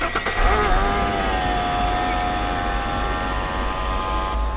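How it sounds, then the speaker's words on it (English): Steady engine running from a Mercedes R129 SL just after it fires up, a loud close idle with a pitch that settles lower after the first second. "And then we've got the car started."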